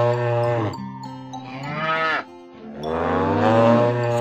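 A cartoon dairy cow on a livestock farm moos twice, each a long, loud, drawn-out call with rising and falling pitch, separated by a brief pause.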